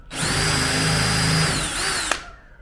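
A power drill cuts countersinks into screw holes in a wooden deck, giving a loud, steady whine that sags once, then stops with a sharp click and fades out, with no voices.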